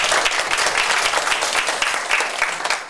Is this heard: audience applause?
yes